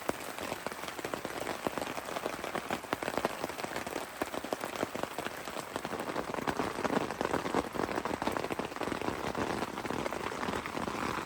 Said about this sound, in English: The rain got heavier and heavier as the night went on